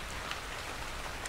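Steady rain falls in ARK: Survival Evolved as a dense broadband hiss of drops on surfaces, with a few brighter patters, heard alone and fairly loud for under two seconds.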